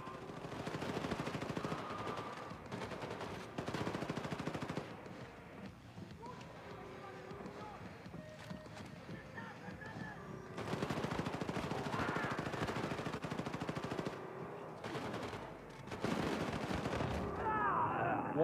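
Gunfire in Wolfenstein 2: The New Colossus comes in loud rapid bursts of automatic shooting, separated by quieter gaps with game sounds and voices in the background.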